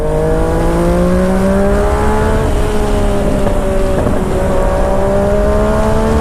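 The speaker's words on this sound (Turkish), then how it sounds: "Şimdi bakınız bu trafik Manhattan'a kadar gidiyor arkadaşlar." Dense road traffic heads toward Manhattan, a steady roar of car engines and tires with rising and falling engine tones, close and loud, with no voices.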